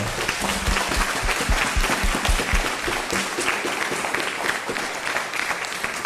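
Audience at a school district board of education meeting claps for retiring staff, a full, even round of applause that holds at a steady loud level throughout with no speech over it.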